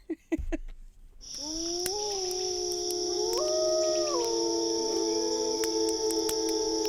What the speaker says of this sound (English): Wolves howl in the distance.